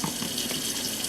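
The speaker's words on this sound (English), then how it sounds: "The only thing I do is add the hot water in here and stir it up real good." Hot water pours steadily into a cooking pot while chicken soup is being made, a close, continuous rushing splash with no talking.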